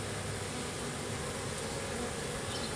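A honeybee swarm buzzes and fans its wings together, a dense, steady hum that holds unbroken and fairly loud throughout, with no voices over it.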